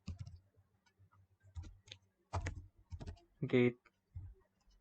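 Keys clatter on a computer keyboard while Python code is typed, short bursts of soft clicks near and close alongside someone talking quietly.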